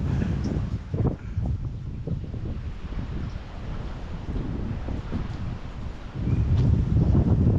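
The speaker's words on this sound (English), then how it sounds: "Back out into the wind." Strong wind buffets the microphone on a stormy seaside walk in Porthcawl during Storm Bert, a steady roar with low gusting rumble that swells louder near the end, no talk.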